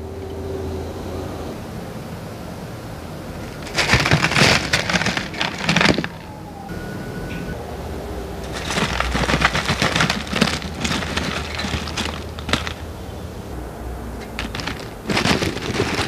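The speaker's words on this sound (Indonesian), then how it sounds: "kita goreng sisanya yang belum digoreng" Crispy rice donuts fry in hot oil, a dense crackling sizzle that swells into loud bursts several times over about sixteen seconds, with quieter steady bubbling between them.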